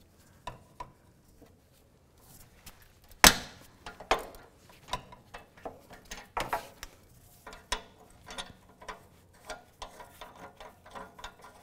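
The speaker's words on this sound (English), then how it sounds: "Put my oxygen sensor socket on." Socket wrench working an upstream oxygen sensor on a 2015-2020 GMC Yukon XL, heard as a run of sharp close metallic clicks and knocks in irregular rhythm, one louder clank early on, with no talking.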